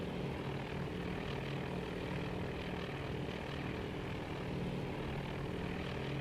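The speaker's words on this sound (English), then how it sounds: "we've got another set of bombers diving" Dive bombers in the Task Force Admiral naval game set at Midway drone steadily with a propeller-engine hum, a continuous moderately distant roar with no clear breaks.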